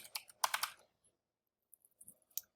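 Typing on a computer keyboard while entering text into a code editor, a quick cluster of close keystrokes followed by a pause and a few scattered lighter clicks.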